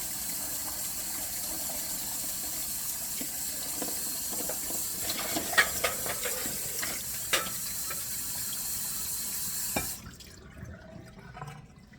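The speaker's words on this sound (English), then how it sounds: "I'm just adding hot water to make sure it's hot" Hot water runs from a kitchen tap into a bowl for bread dough, a steady close rush with some splashing and clinks over roughly ten seconds before it cuts off, leaving faint drips.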